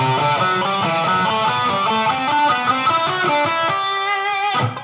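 Guitar picks out a sequence of paired notes in thirds, alternating ascending and descending pairs in a steady, clean rhythm, played alone and close, ending on a held note that cuts off.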